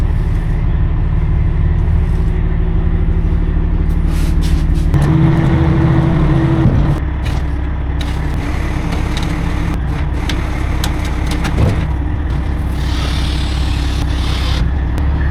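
A truck engine idles steadily throughout at close range, a constant low rumble with a brief rise in pitch partway through, alongside a paint job on a big trailer in a shop.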